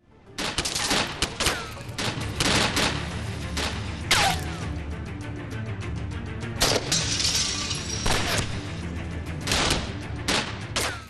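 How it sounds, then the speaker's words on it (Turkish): Rapid gunfire and sharp squib bangs erupt during a staged TV series shootout on set, dense overlapping cracks and bursts continuing loudly throughout, with scattered breaking and debris impacts. "Daha çok burada fünye ağırlıklı çalışacağız karşılıklı bir çatışma var."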